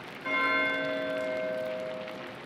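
A single church bell strike in the Pentiment video game rings out clearly and alone, its tone lingering and slowly fading over a couple of seconds.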